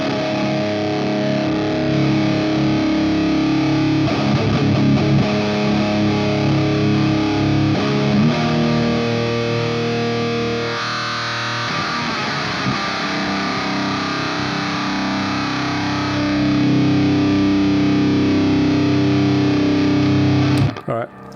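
Guitar played through an Otto Audio Blown Out Wall distortion pedal with HM2-style EQ, thick and saturated, sustaining chords and riffs continuously for about twenty seconds before cutting off abruptly.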